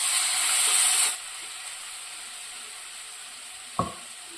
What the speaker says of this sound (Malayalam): ബീഫ് വേവിച്ചതിൻ്റെ വെള്ളമില്ലേ ആ വെള്ളം അത് ഒഴിച്ചു കൊടുക്കുക